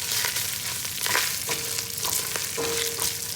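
Onions fry in a pan for egg dum biryani, a steady close sizzle with occasional stirring scrapes and soft clinks, with no voices.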